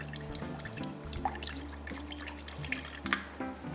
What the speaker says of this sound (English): I am also going to add a little bit of water to this.